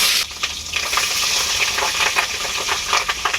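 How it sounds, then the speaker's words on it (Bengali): Fish roe frying in hot mustard oil in a wok, a loud, steady sizzle with crackling spatter and occasional stirring scrapes, close by and continuous, with no voices. "মাছের ডিমগুলো আমি এখন ভেজে নেব তেলের মধ্যে"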